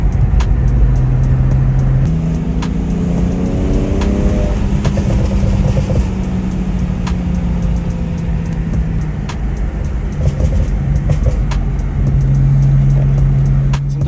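A BMW 335i drives on an open road in the early morning, its engine a steady close drone that rises as it revs through gears and then settles, with no talk.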